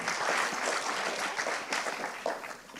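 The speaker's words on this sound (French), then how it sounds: "on les applaudit encore bien fort" Applause for a prize-winning group at a 2021 final: a steady, fairly faint patter of many hands clapping together, holding evenly for a few seconds with no one speaking over it.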